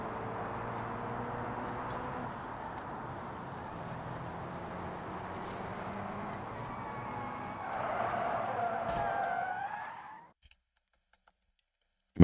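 Car skidding and spinning in the BeamNG driving game, a faint tire squeal over a steady engine hum, swelling briefly before cutting to silence.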